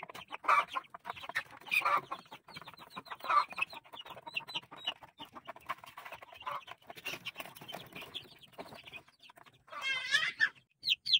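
Chicks in a brooder on a chicken farm, a dense chorus of high-pitched peeping and cheeping from many birds close by, with a louder burst of chirps near the end.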